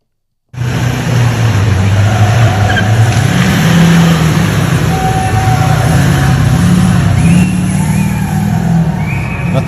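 Two full-size Hemi pickup trucks dragging a Christmas tree, their engines droning loudly and steadily with shifting revs and a faint scraping whine, close to the microphone throughout.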